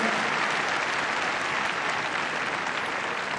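Sustained audience applause fills the hall after a freestyle heelwork-to-music dog routine, a dense, steady clatter of many clapping hands at even loudness throughout, with no voices breaking through.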